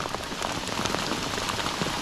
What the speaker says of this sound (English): So anyone else that's not in the woods is in rain like that.